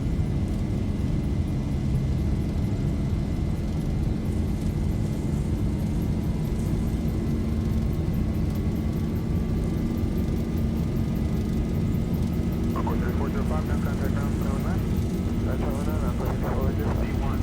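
Steady jet engine roar of a Boeing 737 (Zibo 737) spooling up for takeoff in a flight simulator, loud and constant, with voices talking over it and radio-like chatter near the end.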